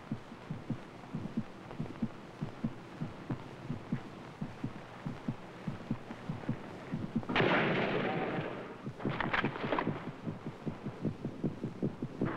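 A man's heartbeat thumps in a steady, slow, deep rhythm over a low hum, with a loud rushing swell briefly surging over the beats midway before the even pulse continues; 1966 Vietnam War setting.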